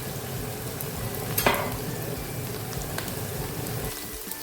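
A soft, steady sizzle of a pan heating for egusi soup, with a brief crackling burst early on and light clatter in the background.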